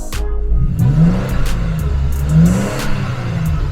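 A 2021 Toyota Tacoma TRD Pro pickup engine revs twice in quick succession, each rise climbing and falling back to a low idle, loud and close.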